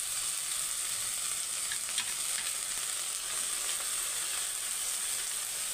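Jute leaves, pat shak, frying in a pan with chopped onion and green chillies, a steady close hiss and crackle of hot oil with faint stirring scrapes and no voices.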